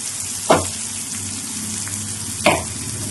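Spices and masala powder, including coriander powder, frying in a pan for a fish roe curry, a steady low sizzle broken by two short scraping stirs, with no talk.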